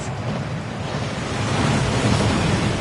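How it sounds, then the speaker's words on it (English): A waterfall in the Hogwarts Legacy video game rushes with a loud, continuous broadband roar that builds slightly and has no talk over it. "That waterfall washes away all enchantments."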